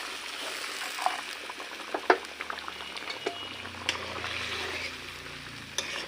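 Fried fish goes into a gently bubbling curry, with a soft simmering hiss and a few quiet clinks and taps from the pan.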